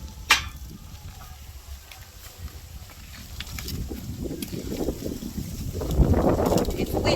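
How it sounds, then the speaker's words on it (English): Wind gusting outdoors beside an open cooking fire, a low rumbling buffet that builds and grows louder toward the end, with a brief sharp knock early on. "It's windy outside."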